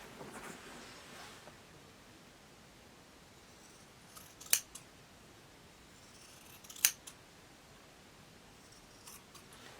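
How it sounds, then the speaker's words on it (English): Scissors cut through a pant leg to turn it into shorts, giving two short, sharp snips at close range, several seconds apart, against a quiet background. "And then I'm going to make my cut."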